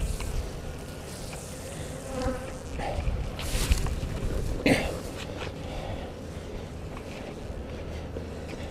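Worker honey bees drone steadily around an open hive during an inspection, a continuous close buzz with brief louder passes of individual bees near the microphone.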